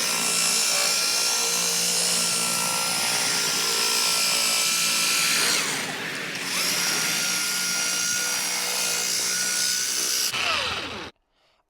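A power buffer with a buffing pad polishes a car headlight, giving a loud, sustained motor whine with a brief dip in pitch midway, then spinning down and falling silent near the end.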